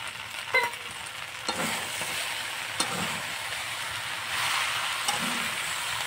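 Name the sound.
stirring sugar into elephant apple pickle in a pan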